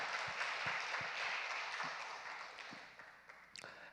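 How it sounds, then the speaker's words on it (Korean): A church congregation applauds its worship team during a Wednesday Bible study service, a full, sustained round of clapping that gradually thins and fades toward the end. "우리 찬양팀들 박수 한번 해주십시다"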